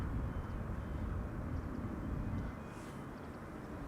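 A jet aircraft passes overhead near Amsterdam Schiphol Airport, a distant low rumbling drone that holds steady and then slowly fades away.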